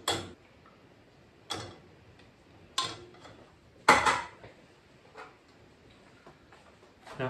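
Tepache ingredients are stirred together in a pot or bowl, with a few separate clinks and knocks of utensil against container spaced about a second apart over a quiet background.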